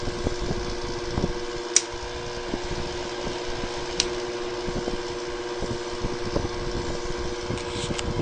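An air conditioner powered through a Bestek 1000W power inverter runs roughly and unevenly, a continuous mechanical hum with pulsing, stuttering beats and a couple of faint clicks, close and steady with no talk.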